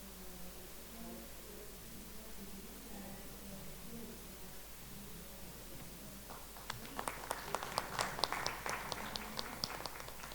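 Audience applause for Raosaheb Ghuge at an entrepreneurs' event in Pune, a burst of clapping rising in the final few seconds after murmured room sound, moderately loud and close.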